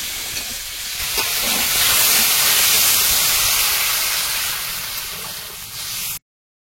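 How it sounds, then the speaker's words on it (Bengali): Water poured into a hot wok of cooked-down curry erupts in a loud, sustained roaring hiss of steam that swells and holds for several seconds, easing slightly before cutting off abruptly. "ভালো করে কষিয়ে নিয়েছি, এখন জল দিয়ে দেবো।"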